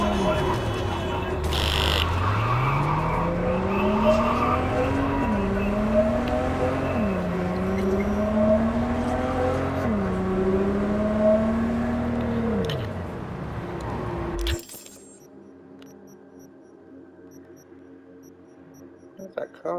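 A car engine in Cyberpunk 2077 revs upward in repeated rising sweeps, dropping back at each gear shift as it accelerates steadily for about fourteen seconds, then cuts off abruptly, leaving near silence.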